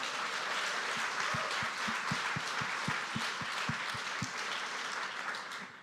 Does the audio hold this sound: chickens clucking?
no